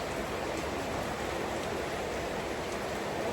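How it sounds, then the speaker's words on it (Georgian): Rain falls outside as a soft, even hiss of drops at a distance, faint and unbroken, with no speech. "აი გარეთ წვიმს"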